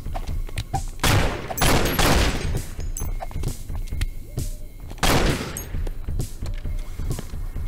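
Repeated bursts of gunfire from cops shooting in the game miniLAW, loud volleys and rapid fusillades with sharp single shots between them, close and continuous through the whole stretch.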